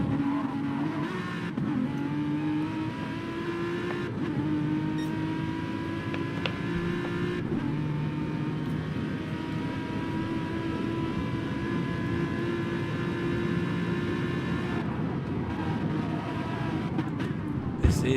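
A GT3 race car heard onboard in a racing game at Circuit de la Sarthe, Le Mans, its engine droning steadily and loudly with rising and falling pitch through gear changes, lightly lifting off between shifts.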